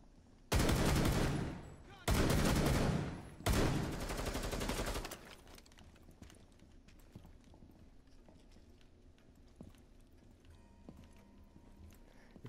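Gunfire in Rainbow Six Siege terrorist hunt, three loud rapid automatic bursts close together, followed by quieter game ambience with faint distant clatter.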